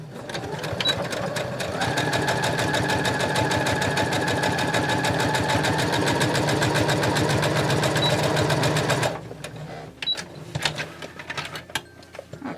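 A sewing machine runs steadily for about nine seconds, stitching the first quarter-inch pass of a French seam, then stops, leaving a few soft handling noises close by.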